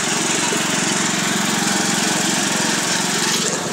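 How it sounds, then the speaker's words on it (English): A lawn mower engine runs steadily out on a street, loud and close, with a continuous droning buzz and no pauses over the few seconds. "Oh, wow, I guess he's mowing the street for us."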